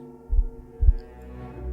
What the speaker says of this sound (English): I could feel a heartbeat.